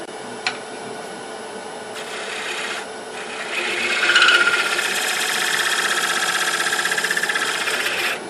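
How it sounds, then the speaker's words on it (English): A hand scraper rasps steadily along a wooden lattice box top in long, close strokes that swell louder midway, with no talking. "This is just a scraper I'm going to use to smooth it up."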